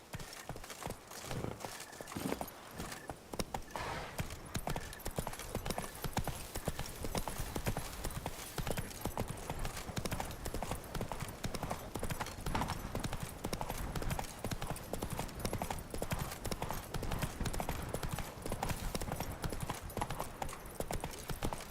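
Roach, a horse in The Witcher 3: Wild Hunt, gallops in a steady, fast clip-clop of hooves that runs unbroken and fairly loud from start to finish.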